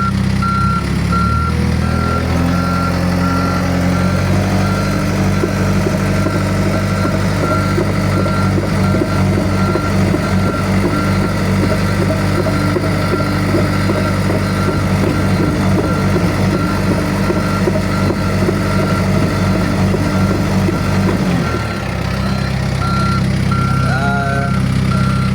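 A bulldozer backs up with its diesel engine rumbling steadily and a regular reversing alarm beeping throughout, close and loud, until the engine note drops near the end.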